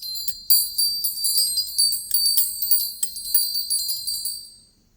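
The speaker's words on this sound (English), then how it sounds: "Okay, our Ganesh bell." A small Ganesh bell rings repeatedly with high, shimmering metallic tones, struck several times in quick succession before fading away.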